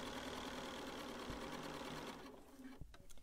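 A sewing machine stitches steadily with an edge stitch foot, a quiet, fast, even mechanical whir that runs for about two seconds and then stops, leaving faint clicks.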